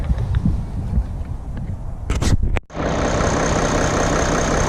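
A Mercedes E300 with an OM606 diesel engine idles steadily and evenly after a brief burst of mechanical clatter and a momentary dip, settling into a smooth, continuous close-up hum.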